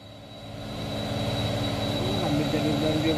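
A Euro 2 truck engine, a Hino, revs up close by, rising from a steady rumble to a louder, sustained roar with a thin high whine on top, and people talking over it.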